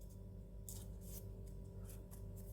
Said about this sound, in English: You just cut a triangle, and again you can fold it in half